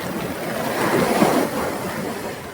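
Rough sea surf at Thrikkannad beach in Kasaragod during stormy, rainy weather rushes in a broad roar that swells and then recedes. Wind buffets the microphone, and no one speaks.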